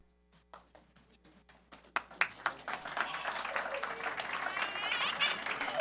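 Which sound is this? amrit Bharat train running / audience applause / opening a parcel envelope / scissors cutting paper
audience applause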